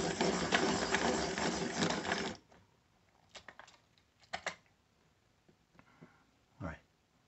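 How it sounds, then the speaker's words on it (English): Wooden pencil being resharpened in a Deli sharpener, a few short grinding bursts and clicks after a loud noisy stretch. "they both will fit in this Deli sharpener. And I'm gonna resharpen this."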